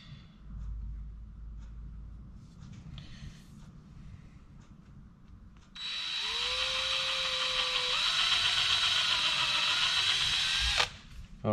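Power drill whirring as it bores pilot holes into a homemade bamboo fishing rod, a steady high whine that dips in pitch as the bit bites, running for several seconds after quiet handling sounds, then cutting off.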